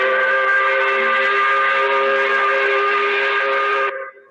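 A loud, sustained 5 o'clock whistle blows steadily as one long continuous tone, then cuts off abruptly near the end with a brief fading tail.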